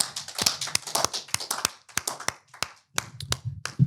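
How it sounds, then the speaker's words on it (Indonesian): A few people in a podcast studio clap in quick, uneven bursts, each sharp, close hand strike separated by brief gaps, trailing off and then picking up again. "tepuk tangan dulu"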